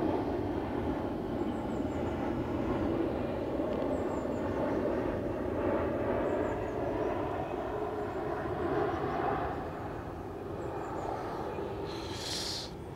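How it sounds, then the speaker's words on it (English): An airplane on the Heathrow flight path passes overhead as a faint, distant broadband roar that swells slowly and then fades, with no talking. "excuse the overhead Heathrow flight path"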